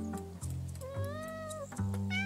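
A cat in the video game Tower of Fantasy gives a drawn-out, rising meow, close and clear, over steady game background music.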